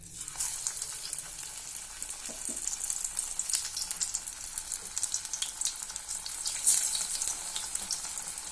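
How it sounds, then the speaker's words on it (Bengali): Cabbage fritters frying in hot oil give a steady, close sizzle with bright crackles and pops throughout, and one sharp spit near the end; no one speaks. "এবার তেলে ভেজে নেব।"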